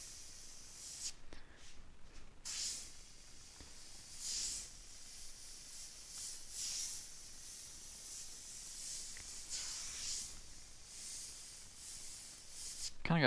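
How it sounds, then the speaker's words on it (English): An air compressor feeding an airbrush runs through a live graffiti session painting T-shirts, a steady hissing rush with some uneven swells, continuous and moderately loud throughout. "hope that air compressor isn't too loud"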